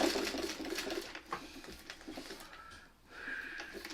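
A sewing machine runs a quarter-inch seam around a quilted placemat, a close, moderately loud mechanical whir with a brief pause partway through, then resuming, with no speech.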